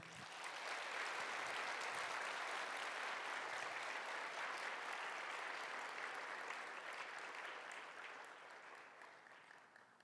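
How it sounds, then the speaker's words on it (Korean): A church congregation at a young adults' worship service applauds in a sustained, dense wave of clapping that holds steady for most of the stretch, then slowly thins and fades near the end. "큰 격려의 박수 부탁드립니다."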